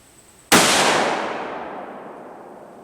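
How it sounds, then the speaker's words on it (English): A single loud rifle shot firing a 180 grain Hornady soft point from a Remington 742 or Savage Model 11, a sharp sudden crack followed by a long decaying outdoor echo after a quiet start. "we're going to shoot the 180 grain Hornady soft point"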